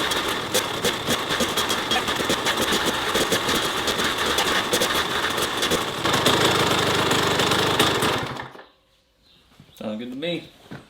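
Rebuilt Kawasaki KX100 dirt bike two-stroke engine running through a heat cycle, a loud steady buzzing idle with revs, then cutting off abruptly to near silence before brief talking.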